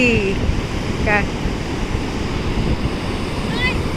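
Sea waves wash onto the beach at Puri in a constant rushing roar mixed with wind buffeting the microphone, with faint distant voices or calls above it.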